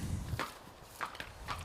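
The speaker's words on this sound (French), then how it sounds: "Dr Dino, près de 3 millions d'euros de gains qui se promènent devant vous." Hooves of a stallion walking during a stallion show at a stud farm, three clear clip-clop steps at an even walking pace, fairly close and moderately loud.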